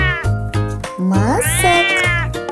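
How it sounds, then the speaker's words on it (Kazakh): A domestic cat meows close up: a run of drawn-out, rising and falling meows, with a low steady background underneath. "Бұл мысық."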